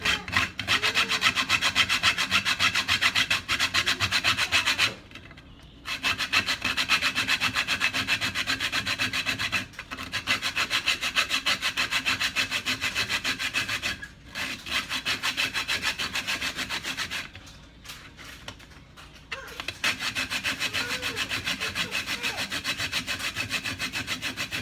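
A whole nutmeg rasped steadily against a metal grater for Jamaican cornmeal porridge, a dense, continuous scraping with brief pauses every few seconds, close and loud with no talking.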